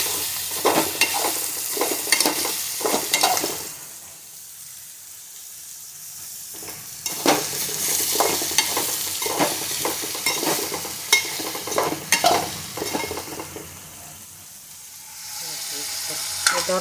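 Ridge gourd with masala fries in a pan, a loud continuous sizzle broken by repeated scraping stirs of a spoon, fading quieter in stretches before the stirring resumes.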